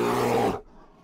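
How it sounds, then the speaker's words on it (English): A bear lets out a loud, deep roar that rumbles steadily for about half a second and then cuts off abruptly into near silence. "A bear's roar, so loud it shook the trees."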